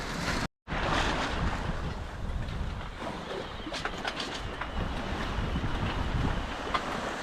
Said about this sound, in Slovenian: Tako še kar jadramo že cel dan, si tako počas, zdaj ni veliko vetra